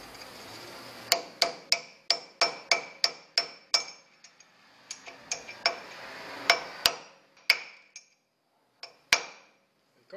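A hammer drives a bearing race into a Toyota HJ61 during restoration, striking the old race laid on top as a driver. Sharp, ringing metallic blows land in quick, steady runs of about twenty, with short pauses between bursts.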